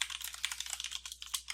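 Rapid, steady typing on a computer keyboard, crisp close-up key clicks in an even patter with no talking.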